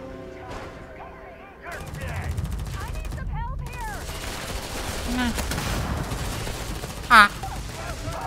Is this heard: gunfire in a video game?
yes